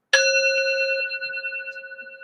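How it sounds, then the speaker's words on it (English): A small bell is struck once, giving a clear, bright ding that rings on and slowly fades over about two seconds, close and alone. "Do a little bell here."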